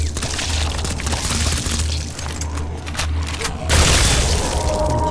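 An explosion blows up a zombie in a horror video game, a loud broadband blast swelling over continuous game noise and rumble, with a sharper burst near the end.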